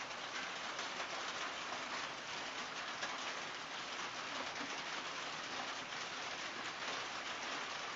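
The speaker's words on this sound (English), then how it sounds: "I'm happy we're getting rain" Steady rain pours down in a July downpour, a continuous even hiss of drops hitting the ground and surfaces, moderately distant and unbroken throughout with no voices.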